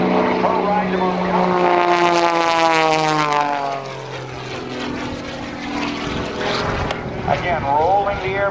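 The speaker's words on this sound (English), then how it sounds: "rolling the airplane on the upline, doing this rolling one-half Cuban eight" An aerobatic propeller airplane at the 2008 NAS Oceana airshow rolls through a half Cuban eight, its engine drone loud and rising then falling in pitch as it climbs and passes overhead.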